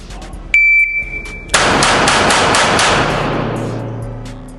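A shot-timer beep is followed by a rapid string of loud, close gunshots from a Springfield Armory Hellcat .380 pocket pistol at a range, the shots merging into a booming, slowly fading echo.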